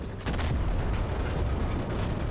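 Gunfire and tank bombardment in the video game Enlisted during a beach assault on Omaha Beach, a dense sustained barrage of booms and shots that rumbles loudly and continuously with no talking.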